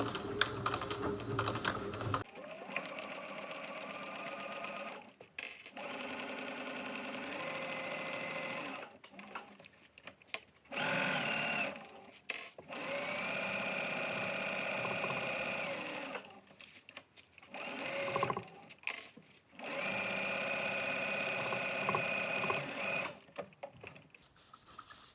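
A sewing machine runs a straight stitch through plastic fabric, a steady close mechanical whirr in several long runs broken by short stops, with a little speech in between.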